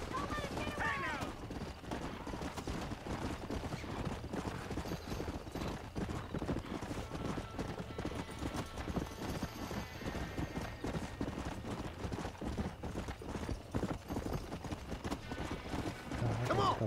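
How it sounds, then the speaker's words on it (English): A galloping stallion's hooves pound steadily in the Red Dead Redemption video game, a rapid rhythmic clip-clop of the chase with brief whinnies, under game sounds and occasional voices. "Hey, the stallion's getting away! Chase him down and bring him back!"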